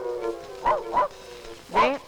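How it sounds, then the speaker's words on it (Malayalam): A few short dog barks or yips, three separate bursts with pauses between, fairly close, over a low background hum. "ഈ പട്ടി അവിടെ തന്നെ നോക്കി കുറയ്ക്കുന്നത്?"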